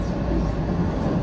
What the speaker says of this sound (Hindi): Overtaking Jammu mail.